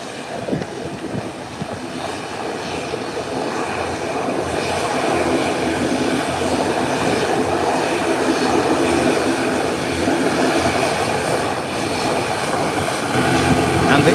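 An ATR turboprop airliner taxies in at Howard Hamilton International Airport on Providenciales, Turks and Caicos Islands, its engine drone a steady, broad roar that swells and holds loud throughout, with no talk over it.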